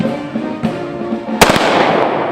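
Military gun salute volleys ring out at a wreath-laying ceremony, a few sharp loud cracks in quick succession after a low steady murmur of crowd and ambience.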